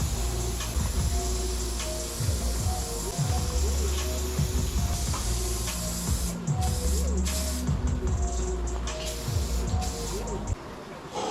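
Spray gun applying a second coat of touch-up paint on a 1973 Buick Century, a steady broadband hiss running almost continuously with brief pauses, close and fairly loud, with faint background talk underneath.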